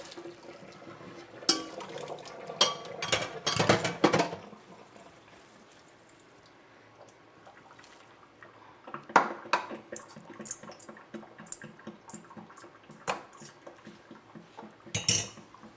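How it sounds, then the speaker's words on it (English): A pot of pasta and vegetables is drained in a kitchen sink, with clattering metal, splashing water and scattered clanks in irregular bursts separated by quieter stretches. "shortly I will take the pot over to the sink and drain it"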